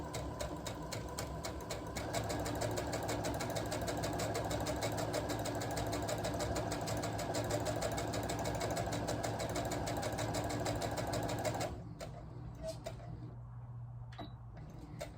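Sewing machine stitching a seam on a small pouch, a close, rapid and steady mechanical clatter running for about twelve seconds before stopping, followed by quieter handling noise.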